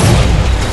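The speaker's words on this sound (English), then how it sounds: "he pushing up, throwing grenades" Grenade explosion in Halo 4 multiplayer: a single loud, deep boom that hits at once and rumbles briefly, very close and heavy.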